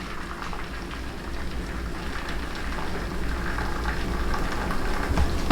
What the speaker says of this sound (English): 咁我就擺呢個熱水落嚟啊，1寸啫。